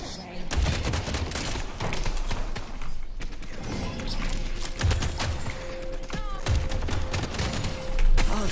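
Gunfire during a Deadlock match: rapid bursts of shots with a few heavier thuds, running almost continuously over game sounds, with players talking over it.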